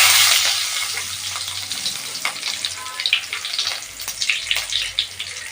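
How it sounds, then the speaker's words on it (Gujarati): Curry leaves dropped into hot tempering oil with cumin and asafoetida, a loud burst of crackling sizzle at first that settles into a steady, softer frying hiss with small pops. "હવે મેં એક ડાળ મીઠા લીમડાની લીધી છે તેને એડ કરશું વઘારમાં"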